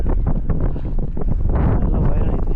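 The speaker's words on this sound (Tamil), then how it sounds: "காற்று அப்படியே இழுத்துட்டு வருது." Strong wind roars across a hilltop trail on a rainy day, buffeting the microphone with a loud, continuous rumbling gust and no talk.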